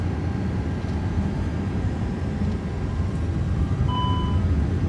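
Jet engines roar steadily on an Airbus Beluga XL during its takeoff roll from Toulouse, a loud broadband cockpit rumble with faint beeping tones near the end.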